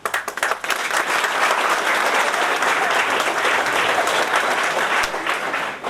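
An audience at a polytechnic college gives a sustained round of applause for a speaker, dense steady clapping from many hands that holds loud and full for about six seconds and dips slightly at the end.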